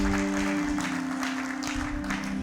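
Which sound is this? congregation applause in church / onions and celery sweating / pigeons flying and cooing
congregation applause in church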